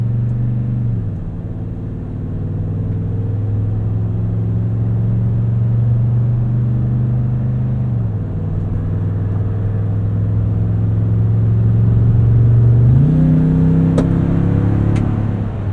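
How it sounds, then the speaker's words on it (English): A deep exhaust burble from a 2020 Toyota Tundra TRD Pro's 5.7L V8 with TRD exhaust lopes steadily at idle and low speed, then swells briefly as the engine revs up near the end. "this just always present burble from the V8 with the TRD exhaust"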